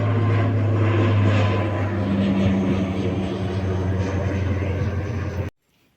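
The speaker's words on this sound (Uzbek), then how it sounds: "Samolyot ket." An aircraft drones overhead during a fishing trip, a loud steady engine hum with a low tonal rumble holding for about five seconds before cutting off abruptly.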